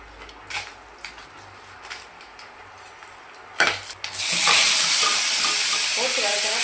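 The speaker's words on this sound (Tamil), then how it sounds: "காமிக்கிறோம், இப்போ வதக்கிறது. இது தெரிக்கும்" Pirandai (adamant creeper) is sautéed for chutney, first with a few scattered scrapes and taps, then a loud burst as it hits the pan, giving a dense, spitting sizzle of splattering oil that holds to the end.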